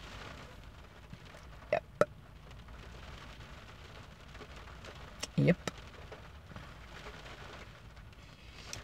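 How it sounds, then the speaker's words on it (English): Steady rain falls as a soft, constant patter in the background while someone speaks briefly over it, with a few short louder knocks. "All of this wonderful rain is going to turn into ice."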